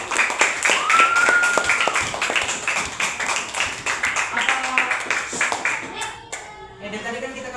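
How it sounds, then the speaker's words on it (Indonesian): Primary-school pupils clap together in an Indonesian classroom, a quick rhythmic burst of hand claps mixed with children's voices, then the clapping tapers off and a voice continues. "Tepuk tangan untuk"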